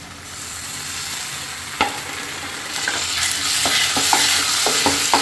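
Ginger-garlic paste and chopped tomatoes frying in a hot pan for a kadai dish: a loud, close, steady sizzle with repeated spoon scrapes and taps, and no voices.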